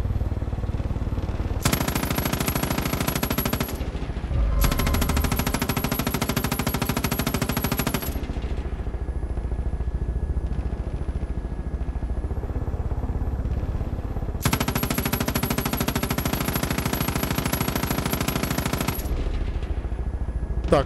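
Three long bursts of rapid fire from a mounted machine gun in Far Cry 5, separated by quieter stretches of low mechanical hum, loud and close.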